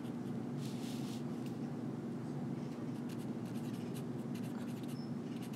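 Chalk or marker strokes on a classroom board during a lecture about fire in Yellowstone's lodgepole pine forests, with short scratchy bursts over a steady room hum and no talking.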